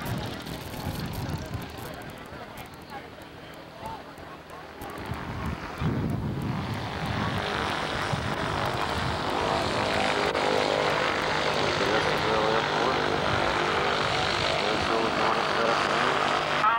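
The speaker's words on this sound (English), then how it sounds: "Apache helicopter" A US Army Apache military helicopter's engine and rotors roar steadily at a 1992 air show in Estherville, Iowa, growing louder and filling the air with a broad, sustained drone; faint voices can be heard early on.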